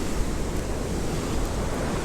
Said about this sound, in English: I'm at Bronte Beach here. I'm just going to walk down the beach.